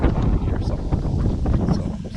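Wind blowing into the microphone on a windy Wisconsin deer-season opener walk, a loud continuous low rumbling buffet close to the mic.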